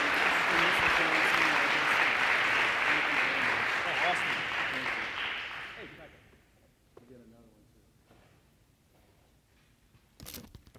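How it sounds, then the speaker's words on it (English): A school ceremony audience applauds for a military scholarship announcement, a loud sustained burst of clapping that fades out after several seconds, followed by a few scattered sounds and a brief closing clatter. "give Austin a big round of applause"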